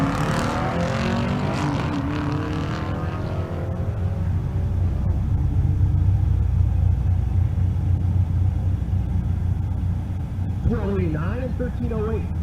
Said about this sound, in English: Left lane, the 6th Gen Camaro.